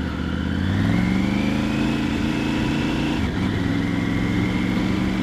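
A Triumph Tiger 900 GT Pro motorcycle pulls hard in first gear, its engine note climbing loudly and continuously up close before a quick quickshifter cut and a renewed surge.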